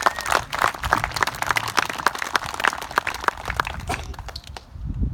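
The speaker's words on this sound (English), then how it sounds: "Let's have a round of applause for Gary" Outdoor crowd claps for the mayor of Round Lake at a field rededication ceremony, a scattered, moderately loud patter of hands lasting several seconds before tapering off near the end.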